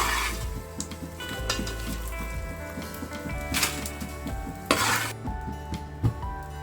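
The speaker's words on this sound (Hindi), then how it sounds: "अब थोड़ी सी हम घी और डाल देते हैं और जो बाकी आधी गोंद हम बचाए थे उसको भी फ्राई कर लेते हैं।" Edible gum fries in ghee while a spoon scrapes and clinks against the pan, making a continuous sizzle under repeated stirring knocks and a few sharper metallic hits.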